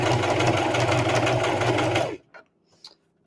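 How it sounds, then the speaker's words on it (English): A sewing machine stitches fabric for a small keychain wallet in one steady, loud run of rapid needle strokes, then stops abruptly, leaving a few soft clicks and handling noises in near silence. "I'm going to sew up this side"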